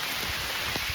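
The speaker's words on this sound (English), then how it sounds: "it's raining pretty hard" Steady, dense rain hisses continuously outdoors at an Oklahoma campsite, a broad wash of drops with a few heavier patters, close and uninterrupted.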